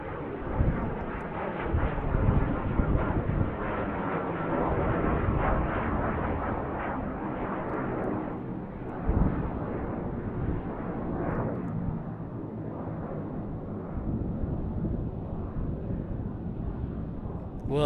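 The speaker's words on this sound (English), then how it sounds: "oh, look at Cessna." A Cessna light aircraft at Tucson International Airport produces a continuous rumbling engine drone, fairly loud and close, with a few heavier surges along the way.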